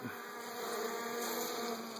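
A thick, droning buzz of a captured honeybee swarm, close and constant, with no pauses or talking.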